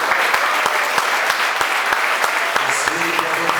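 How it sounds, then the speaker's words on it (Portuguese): A church congregation claps at a Sunday service, loud and close, a continuous dense round of clapping with a few sharper individual claps standing out throughout. "E nós vamos dar uma salva de palmas para as mulheres em nome de Jesus."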